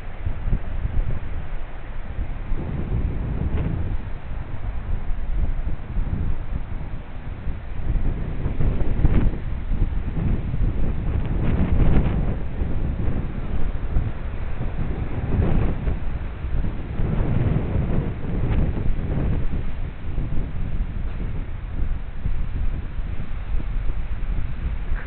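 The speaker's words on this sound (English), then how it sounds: "It's fairly windy today." Steady wind gusting across a coastal walking track between Watsons Bay and Coogee, a continuous low rumble with buffeting against the microphone that swells and eases over the whole stretch, no voices.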